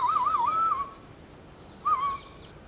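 A gamekeeper whistles a warbling, wavering tune to call his birds to feed, then a shorter whistled phrase after a brief pause, clear and close with no talking.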